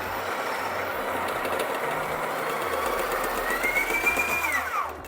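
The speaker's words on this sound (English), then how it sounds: "If you hear that sound, that means the hopper is empty." A coffee grinder running with an empty hopper gives a steady close mechanical whir with a faint high whine, which rises in pitch near the end and then cuts off.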